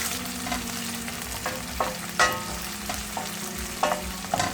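Small onions (shallots) sauté in a pan for a Tamil paruppu urundai kuzhambu, giving a steady sizzle with occasional scraping stir clicks from a spoon, close and moderately loud, with no talking.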